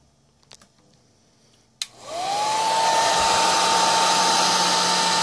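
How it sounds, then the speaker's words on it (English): A heat gun is switched on to warm a stuck part on a Voice of Music turntable, its motor whining up to speed and then blowing a steady loud whooshing hum up close, after a few faint handling taps. "We want to use heat then. Let me grab a heat gun."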